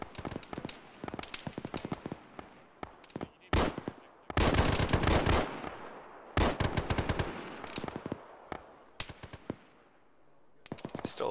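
Gunfire in the military video game Arma during a ShackTac session, with repeated bursts of automatic fire, dense sustained volleys and scattered single shots crackling on and off over several seconds, some close and loud, others more distant.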